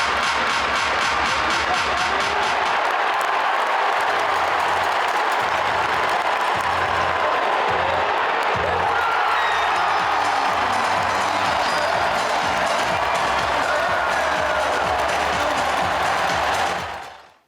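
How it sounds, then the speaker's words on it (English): A Sacramento Kings basketball crowd roars at Golden 1 Center, a dense, sustained wall of cheering and applause from a packed arena that fills the whole stretch before cutting off at the end. "just listen to the volume of the Golden One Center"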